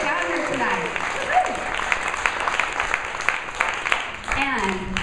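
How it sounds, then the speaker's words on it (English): An audience at a Bend town hall meeting on the 2015 legislative outlook gives the legislators a round of applause, moderate and steady, with voices and a few cheers mixed in. "Big round of applause if they all made it down here tonight."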